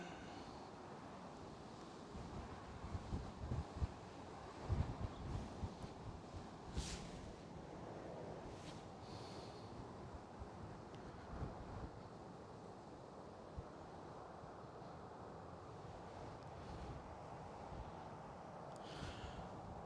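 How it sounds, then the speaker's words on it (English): Steady, faint wind buffets a microphone outdoors at an airport, a continuous rushing noise with a few gusty swells and no clear voices. "the wind's like I said, a bit of a challenge today"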